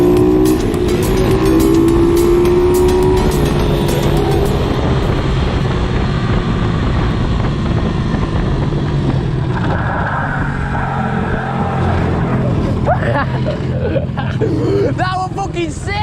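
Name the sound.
pit bike locking its back wheel and sliding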